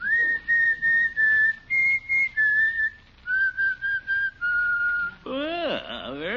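Someone whistles a melody in clear, close, sustained notes with short pauses between phrases, ending with a warbling, sliding flourish.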